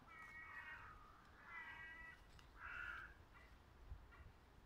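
Crows cawing in a small forest, several harsh calls in short bursts spaced through the clip, moderately distant over a low rumble of background noise.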